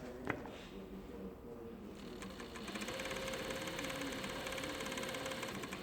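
A Juki MF-7523 coverstitch sewing machine sews steadily after a brief click, with a continuous mechanical whir and buzz that holds even and close, and no voices.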